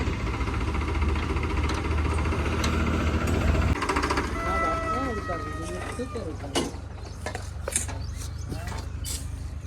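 A tractor engine chugs nearby with a heavy knocking rumble, dropping to a lighter idle partway through while people talk over it and occasional clanks sound.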